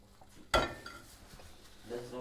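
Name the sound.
pots and pans clattering, pot taken out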